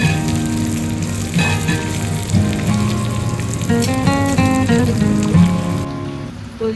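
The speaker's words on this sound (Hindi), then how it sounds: "तो यहाँ पे लग रहा है दाल में तड़का" Steady crackling sizzle of tempering spices hitting hot oil for dal, loud and close, with a faint tonal hum running underneath throughout.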